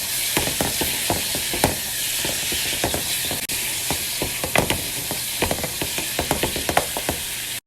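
Garlic and ginger paste sizzles and fries in a pan for chicken tikka masala, a steady loud hiss broken by frequent crackling pops and stirring scrapes, with no talking.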